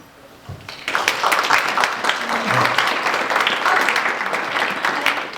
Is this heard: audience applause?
yes